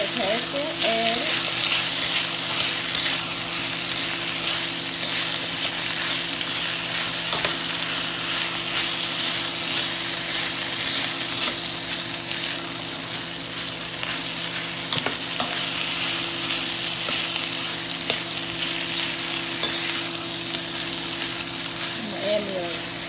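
Sauce for spicy beef and broccoli sizzles steadily in a hot pan as it is stirred, a continuous bright frying hiss with occasional scraping clicks and a low steady hum underneath.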